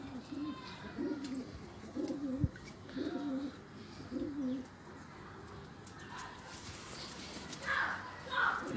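Pigeons coo in repeated soft, throaty phrases close by, a steady rhythmic cooing over a low background hum, with someone speaking at times.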